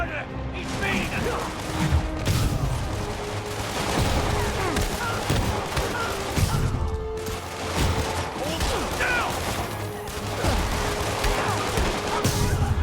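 Police gunfire rattles nonstop in Marvel's Spider-Man, a dense barrage of rapid shots with crashes and fight noises, loud and continuous, with character voices talking over the combat.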